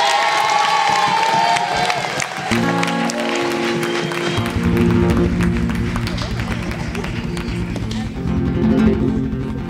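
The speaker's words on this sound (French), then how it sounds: "on les applaudit bien fort." A crowd claps and cheers for a seven-girl singing group at a live show, a loud steady mix of applause and shouts, with children's voices and music-like tones joining partway through.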